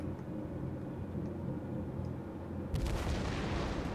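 Warship guns firing in World of Warships, a heavy, booming salvo bursting in after a low, steady engine-like rumble of the game's naval setting.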